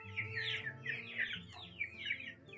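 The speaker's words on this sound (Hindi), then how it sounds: "सुंदर मुर्गे हैं मेरे पहाड़ी मुर्गे भाई।" Several hill chickens cluck and chirp close by in quick overlapping bursts, with softer background clucking running throughout, in a Himalayan setting.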